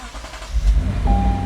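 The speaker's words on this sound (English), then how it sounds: "I'm gonna go ahead and start the vehicle." A Lexus GS car engine cranks and catches, a short low rumble that settles into a steady idle with a faint chime, close and alone.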